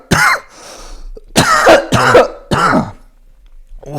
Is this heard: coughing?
yes